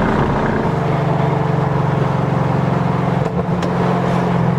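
Race car accelerating flat out on the track at New Jersey Motorsports Park, a loud, steady engine roar heard close from inside the car, holding high revs with a brief dip near the end.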